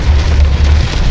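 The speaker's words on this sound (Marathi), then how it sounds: "आता रोडवर तुम्ही बघू शकता भरपूर पाऊस" Heavy monsoon rain pours onto a road near Karnala fort in the Konkan, a dense, loud, steady roar of drops hitting the surface with no voices.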